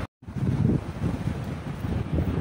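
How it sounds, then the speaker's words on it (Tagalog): Strong wind buffets the microphone outdoors, a loud rumbling, gusting roar that starts after a brief dropout and keeps pounding unevenly for about two seconds. "Pasensya na guys, mahangin."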